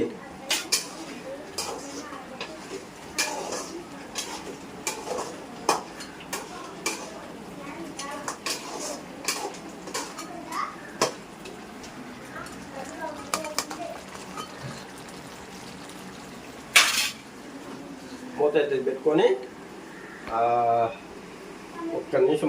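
A spoon stirs crab curry in a cooking pot, with intermittent metallic scrapes and clinks near the mic, and a voice talking over much of it.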